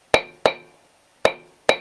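Four sharp metal-on-metal strikes of a hammer on a leather stamp tool, tooling a floral design into handmade leather goods, spaced unevenly and ringing briefly, close and loud with no talk.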